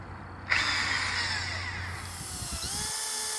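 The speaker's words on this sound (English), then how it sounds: "so the drill won't walk when I drill them." A power drill bores holes into wooden deck support posts, a steady loud whine that starts abruptly and runs continuously, with the pitch dipping briefly as the bit bites before recovering.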